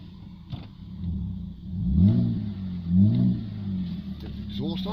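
A Holden WM Statesman LFX 3.6 V6 engine runs close by at a dismantling yard, idling with a throaty hum and rising in two clear revs before settling, with people talking over it.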